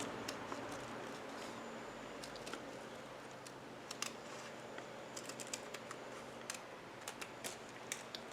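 Scissors cutting out tissue paper wing shapes for a craft, a quiet run of small crisp snips and ticks scattered close by, with no talking.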